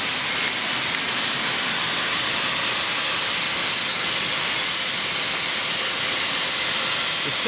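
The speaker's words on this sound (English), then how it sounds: "The steam that's coming is coming from the valve up front" Steam hisses continuously and loudly from a valve at the front of a steam locomotive under repair for head gaskets, a dense, unbroken rush with no pauses.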